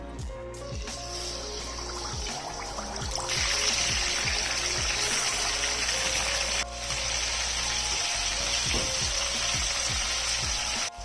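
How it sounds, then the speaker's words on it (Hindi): Marinated chicken pieces sizzle and crackle steadily in hot oil for a steam roast, a dense continuous frying hiss that grows louder partway through, with faint scattered pops and no talk. "एक साइड को फ्राई होते तकरीबन 5 मिनट हो गए"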